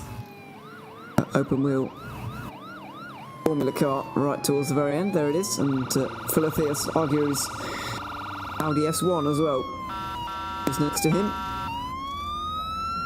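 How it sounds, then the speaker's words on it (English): A rally control car's siren wails in rising and falling cycles, fairly close, at a European Hill Climb Championship round, while commentators talk over it and an engine roars in the background. "That's the siren of the control car that you can hear."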